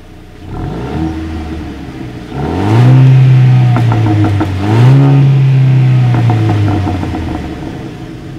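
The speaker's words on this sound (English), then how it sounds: "As always, here is that exhaust clip." A 2019 Jeep Renegade engine revs twice from idle, rising to a loud exhaust roar and dropping back, close up with a steady rumble between bursts.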